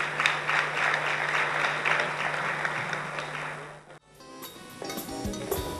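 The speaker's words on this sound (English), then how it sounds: "Shall we have a round of applause for them?" An audience at an academic talk on development in Africa breaks into sustained, even applause that stops abruptly, followed by a brief burst of music or tones.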